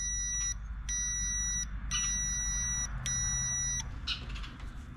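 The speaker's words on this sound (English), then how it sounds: "you can hear it beep" A shrill electronic tone from an electrical tester beeps in four long pulses, each about a second with short gaps, over low background hum, while testing Yamaha DT175B stator wiring and points.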